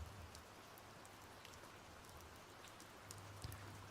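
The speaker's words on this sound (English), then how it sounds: "The rain is too loud?" Steady rain falling and pattering on a surface, a soft continuous hiss with faint scattered drops, quiet and even throughout.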